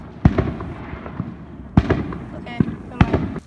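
Small consumer fireworks from a Fourth of July tank toy go off in sharp pops and crackles, several bursts spaced over a few seconds, close by with voices nearby.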